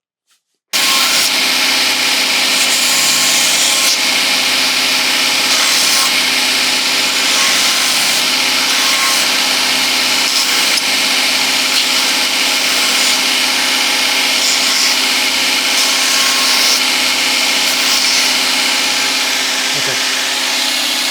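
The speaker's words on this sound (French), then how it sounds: "Donc je vais d'abord meuler ma plaque, puis je remettrai un coup de chanfrein après." Grinder working a plate for a horse's hoof pad during a farrier demonstration, a loud continuous whine that starts abruptly and holds steady for about twenty seconds without pause.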